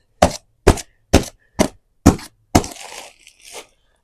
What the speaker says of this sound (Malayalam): നമ്മൾ പ്ലാസ്റ്റിക് ചാക്ക് ആയതുകൊണ്ട് എയർ ഉള്ളിലേക്ക് വരാൻ വേണ്ടിയിട്ട് നമുക്ക് ചെറുങ്ങനെ ഓട്ട ഇട്ട് കൊടുക്കാം.